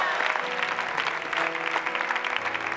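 A church congregation applauds the Lord in a steady, dense burst of clapping that lasts throughout, with sustained musical tones faintly underneath.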